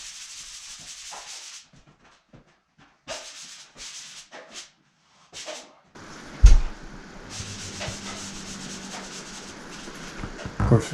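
Hand sanding of a high ceiling from scaffolding in a house, with intermittent scratchy rubbing strokes that pause and resume, faint at first and then a longer steady stretch with a couple of thumps.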